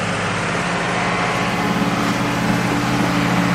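A plate compactor engine runs continuously nearby on soft ground, giving a loud, steady buzzing drone with no change in pace and no talk.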